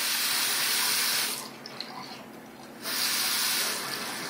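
Tap water runs steadily into a sink for hand washing as a broadband hiss that drops back partway through, as if the flow is briefly blocked by hands, then returns to full strength.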